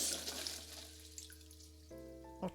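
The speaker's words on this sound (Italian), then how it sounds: "Tira lo sciacquone." A toilet flushing in The Cat Lady video game, a close watery rush that drains and settles into tap-like running water, then a brief tonal chime, with no voices.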